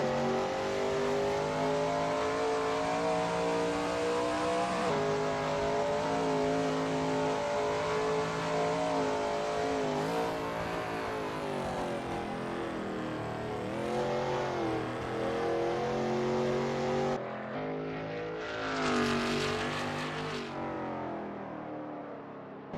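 Shelby Mustang GT350R race car engine at Zandvoort in a racing game, a loud continuous high-revving roar with rising and falling pitch through gear changes, a sharp drop and rebuild near the end as the car brakes and accelerates.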